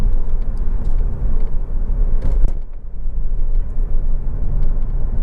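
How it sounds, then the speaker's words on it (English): A Honda Civic 1.8 i-VTEC EX five-door hatchback engine runs close by with a steady, even rumble and a brief dip partway through, no voices over it. "as you'd expect from any Honda engine, starts absolutely instantly, settles to a completely smooth, totally even idle"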